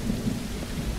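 Rain pours steadily with a low rumble of thunder beneath it in a zombie survival video game, a dense continuous wash with no voices.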